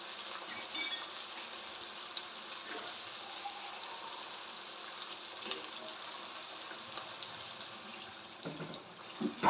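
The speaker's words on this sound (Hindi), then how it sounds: "आधा गिलास पानी डाल के मैं इसे ढक के रख दूँगी" Half a glass of water poured into chicken cooking in a pan for a chicken gobi dish, a steady close splashing and gushing with faint sizzle underneath, running throughout with no talk.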